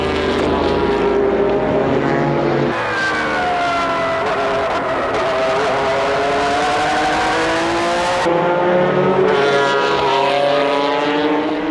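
Roughly 1,100-kilo GT race cars, including a 2003 Honda NSX, scream past at high speed, with loud howling engines climbing through the gears and several cars passing close by in quick succession.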